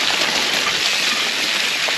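Heavy rain pours steadily during the Cape Epic mountain bike race, a loud, dense hiss of drops on wet ground and gear that holds unbroken throughout with no voices.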